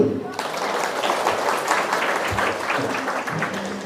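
A crowd claps steadily for several seconds, with voices talking and calling out beneath the applause.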